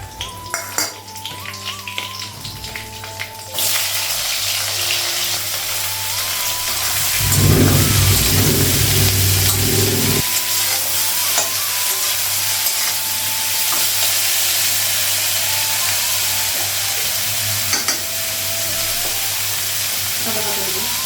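Green chillies hit hot oil with panch phoron in a pan, a sudden loud sizzle that holds steady for many seconds with occasional scraping of stirring and a brief voice early on.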